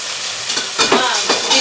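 Pork chops browning in a browning slow cooker, a steady hiss of searing meat with a few louder sizzling bursts as the chops shift, close and continuous.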